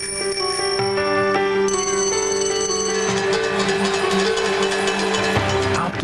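A ringing bell representing the New York Stock Exchange opening bell sounds steadily and loudly for about six seconds, with sustained bright metallic tones layered over a busy background.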